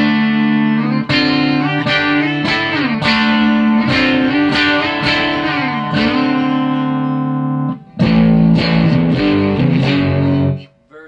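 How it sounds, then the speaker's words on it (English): Electric guitar through a Catalinbread CB 30 distortion pedal: loud, saturated chords and sustained notes ringing in a riff, a brief pause, then more driven strumming, alone without talk. "a kind of a dual distortion pedal unless you need really high gain"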